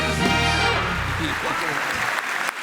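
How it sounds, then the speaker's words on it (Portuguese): A church congregation applauds in one dense, steady wash of clapping that lasts the whole clip and fades slightly toward the end, with voices mixed in. "Vamos aplaudir Jesus."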